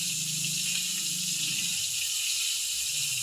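Tap water pours steadily into a kitchen sink as salad ingredients are rinsed, a constant close hiss and splash with faint low clatter beneath, no talking.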